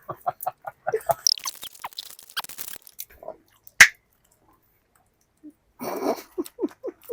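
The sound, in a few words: popping bubble gum with mouth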